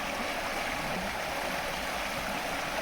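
River rapids rush in a steady, dense, hissing wash around an FTX Vortex RC speed boat, continuous and fairly loud, with no voices heard.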